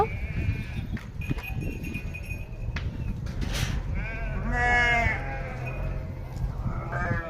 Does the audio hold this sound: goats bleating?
yes